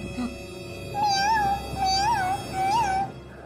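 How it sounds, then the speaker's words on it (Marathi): A cartoon cat gives three drawn-out, clear meows in a row, loud and close, each rising and falling in pitch, with no other voices over them. "बापरे बाप, बापरे बाप, खरंच मांजर, खरंच मांजर."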